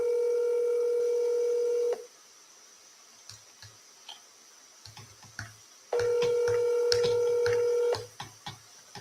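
Telephone keypad dialing: a sustained dial tone, then a series of separate touch-tone beeps, another tone, then more quick beeps, clear and close.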